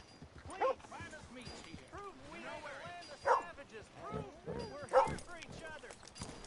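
Dog barking in Red Dead Redemption 2, a few short separate barks and yips heard beneath steady talking, with faint clip-clop of horse hooves in the game scene.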